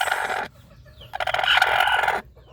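Newly hatched ducklings from a clutch of eight duck eggs peep shrilly in two dense, close bursts of chirping separated by a short quiet gap, with no talking.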